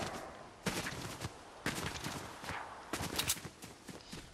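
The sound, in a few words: gunfire in the video game Fortnite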